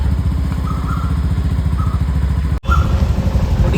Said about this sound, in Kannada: ಗೈಸ್ ನೋಡಿ ಅಣ್ಣ ಸಾಹೇಬ್ ಗಾಡಿ ಹಾಕ್ತವ್ರೆ.